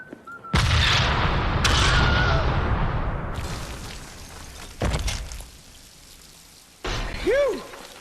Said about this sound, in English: I think it's time that we make things go boom